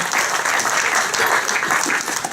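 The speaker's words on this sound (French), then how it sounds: "Merci, on l'applaudit." Audience at a community association general meeting about a dam applauds in a steady, full round of clapping, fairly close and continuous throughout the short stretch.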